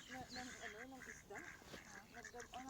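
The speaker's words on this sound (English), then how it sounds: "Look at those ducks." Ducks quacking at a pond, a cluster of overlapping quacks heard at moderate distance, fairly faint and continuous with a voice talking over them.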